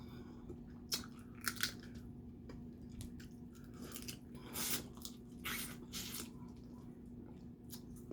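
Crunching and cracking bites into spicy crab legs and crawfish, close-up irregular snaps and chewing over a quiet low hum.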